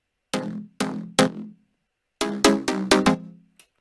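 Synthesizer sounds from the first drop of an electronic track, built on a minor triad: three separate plucky stabs, a pause, then a quick run of five rhythmic hits and a short tail, each decaying fast with bright harmonics.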